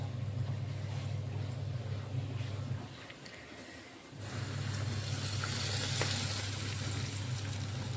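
Hot oil poured over an olive pickle mixture in a pan after the gas is switched off, producing a loud, steady sizzle that dips briefly in the middle and then swells again, with no voices.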